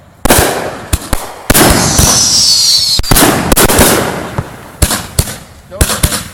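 Fireworks salutes and flashbang firecrackers at a fireworks show burst loudly in a ragged series of sharp, close reports, some clustered and some spaced, with a crackling fizz trailing after one blast and voices faintly underneath.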